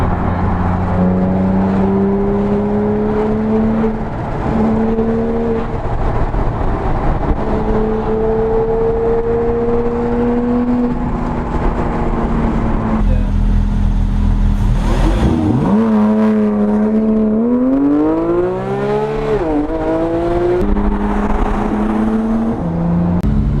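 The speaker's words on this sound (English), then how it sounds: "That rev just like goes and goes and goes." A car engine revs hard and long near a car meet in Park City, its pitch climbing and falling through repeated sweeps and gear shifts, loud and close with no talking.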